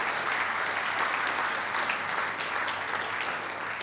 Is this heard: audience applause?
yes